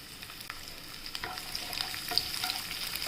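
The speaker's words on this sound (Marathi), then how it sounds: "आता आपण हे लसूण घेतलेले ते त्याच्यात परतून घेऊया।" Garlic sautéing in hot oil with cumin, a steady soft sizzle with light crackles and occasional pops, close and continuous with no talking.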